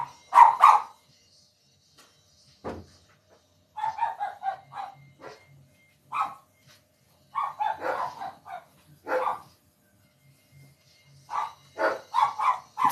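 Several house dogs barking in scattered bursts inside a home, sharp yips and barks close by with silent gaps between volleys.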